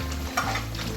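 Garam masala being stirred into a sizzling pan of oil for chicken pickle gives a steady, close frying hiss with a soft scrape of stirring, and nobody talks.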